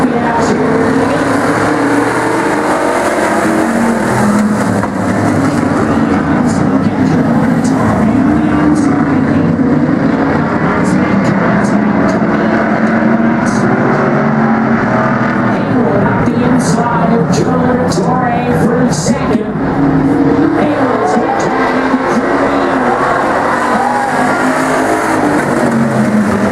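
Race cars roar around the track in a trophy dash at a demolition-style race, a continuous loud engine drone with shifting revs and passing cars throughout.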